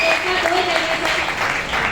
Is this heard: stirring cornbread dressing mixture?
no